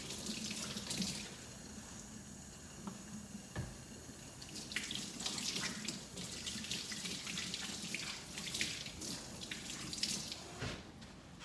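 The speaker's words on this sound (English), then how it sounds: "And wash my hands a little bit." Hands being washed under a running kitchen tap, a steady close stream of water splashing and shifting as the hands move, quiet and continuous without speech.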